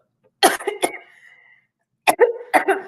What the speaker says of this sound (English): excuse me, I got a cough that ain't went away yet.